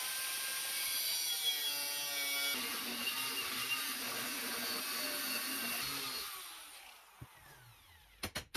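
A saw cuts out a section of wood for a DIY winch mount, a steady rasping drone for about six seconds that then stops, followed by a few brief knocks and clatters.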